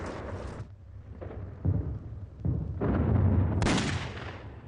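Wartime bombing raid on an airfield in the Philippines: heavy explosive booms and rumbling blasts in quick succession, loud and dense, with crackling bursts and no speech.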